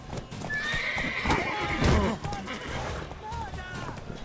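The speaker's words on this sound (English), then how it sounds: "It's horses." In The Witcher 3: Wild Hunt video game, horses whinny and neigh over a rapid clatter of galloping hooves, loud and busy, with voices talking underneath.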